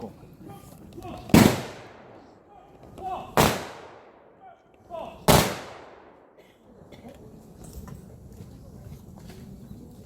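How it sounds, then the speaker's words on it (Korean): Three sharp rifle volleys fired by a ceremonial honor guard at a memorial service, each crack loud and echoing outdoors, spaced about two seconds apart, followed by quiet ambient crowd noise. "의장대 조총 발사!"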